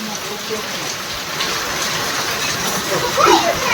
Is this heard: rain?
yes